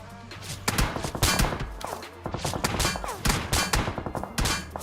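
Automatic gunfire in PUBG Mobile sprayed at a BRDM armored vehicle: loud, dense, rapid bursts of shots with thuds, nearly continuous with brief gaps.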